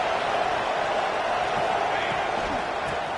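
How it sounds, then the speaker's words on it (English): A football stadium crowd roars steadily and loudly as fans push the defense for a red-zone stop. A voice runs underneath the noise. "This crowd is trying to inspire this defense to make a big red zone stop."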